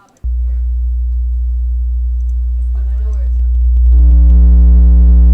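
A very low bass sine test tone drones steadily and loud through the whole stretch, swelling near the end as a second, higher steady tone joins it, giving a humming, feedback-like ring with faint murmuring talk in the background.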